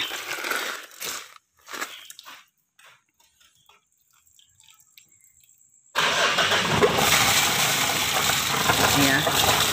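A Mitsubishi Strada Triton diesel pickup with black smoke and heavy fuel use cranks after a few quiet clicks and catches abruptly, settling into a loud, steady mid-pitched idle close by.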